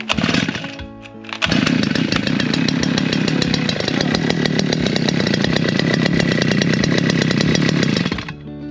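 A chainsaw engine that sputters briefly, then catches and runs loud and steady at a high buzzing pitch for several seconds before cutting off, close by and with no talking.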